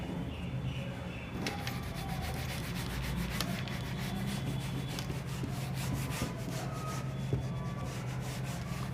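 Eraser or duster rubbing writing off a board during a Hindi-language statistical mechanics physics lecture, a steady close scrubbing swish that runs for several seconds with a few louder strokes.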